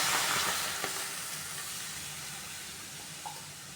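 Milk is poured into a pan of sweet potato frying for payasam, giving a loud, steady sizzle and hiss that fades slightly over a few seconds, with no talking.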